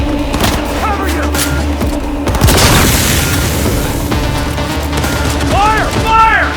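Gunfire and explosions from Cyberpunk 2077: Phantom Liberty in a combat firefight, with heavy booms and scattered shots over a steady rumble, loud and close. Shouting voices are heard throughout.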